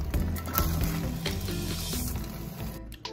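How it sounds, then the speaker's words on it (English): Cabbage cooking in a hot pan gives off a dense, continuous sizzle and crackle with some stirring and scraping, close and loud throughout, fading slightly at the end. "I'm ready to cook the rest of this cabbage."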